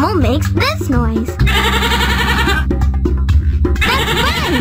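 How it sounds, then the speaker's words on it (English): Goat bleating in a Dora the Explorer farm game, a loud wavering cartoonish bleat repeated a few times, mixed with upbeat background music and a cheerful voice speaking. "That's right, it's a goat."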